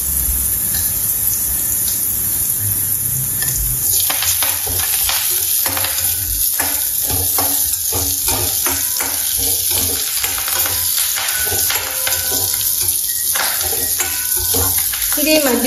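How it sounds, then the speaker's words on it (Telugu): Curry leaves drop into hot tempering oil for a buttermilk dish, bursting into loud crackling sizzles and spatters over a constant hiss, with bright popping bursts that continue and fade unevenly across the stretch. "పోపు వేగిందని ఇలా కరేపక్కడ వేస్తుందాము"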